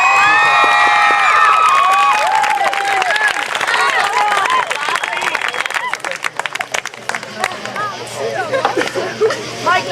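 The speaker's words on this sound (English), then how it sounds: "so give them a round of applause" An audience at a Camp Veritas 2010 talk on marriage erupts in loud cheering, high whoops and applause that gradually thin into scattered clapping and murmuring voices.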